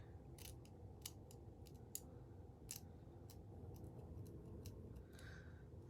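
Scissors cutting hair lace on a transparent lace frontal wig, a series of faint close snips and crisp clicks at an irregular pace over a low background hum, with no talk.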